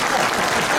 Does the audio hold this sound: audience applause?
yes